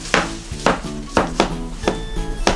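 A knife slicing raw zucchini thinly on a cutting board, five or six crisp, evenly spaced cuts, each ending in a close wooden tap, with no talking.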